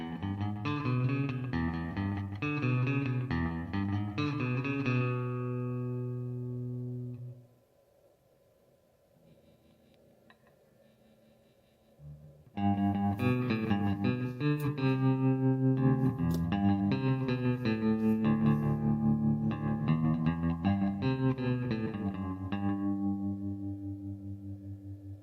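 Electric guitar run through saved presets on a Valeton GP-100 amp modeler, heavily effected with distortion, chorus and echo, playing loud strummed and picked phrases that drop to a brief near-silent pause before resuming at full volume.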